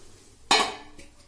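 Fish pieces dropped into a cooking pot for a fish curry land with one sharp, bright splash-clatter, followed by a brief fainter scrape.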